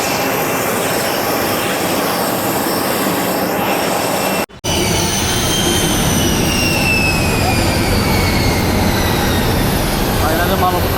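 Loud roar of a jet airliner's engines at an airport, a steady close whine and rumble with rising tonal sweeps, broken by a brief cut near the middle.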